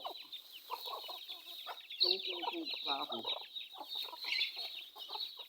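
Chickens cluck steadily at feeding time, a flock of close, busy, repeated clucks over a hiss of outdoor background, with a person talking briefly in the middle.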